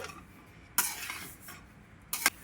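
A spoon scrapes and stirs a ravva laddu mixture of semolina, sugar and cashews in a pan, with a few sharp scraping strokes over a soft background hiss.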